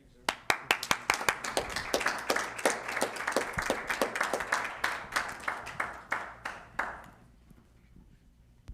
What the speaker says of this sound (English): A well-deserved round of applause you received